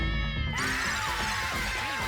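A cat meows in a rising, drawn-out cry followed by softer trailing calls, fairly close and fairly steady in level, set in a tense indoor scene of a comedy series.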